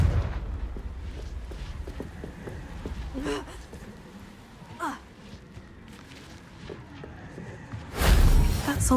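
A Confringo spell explosion in Hogwarts Legacy bursts near the end as a loud, close blast, following scattered smaller thuds and magic crackles across a rumbling game backdrop.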